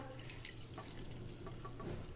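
Lukewarm water sloshes and trickles as wheat bran is rinsed by hand in a vessel, soft close splashing and dripping with small irregular bursts, no talking.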